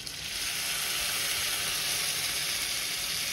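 Cumin seeds and two chopped onions sizzle in a hot pan for pav bhaji, giving a steady, bright frying hiss that runs evenly throughout with no voices.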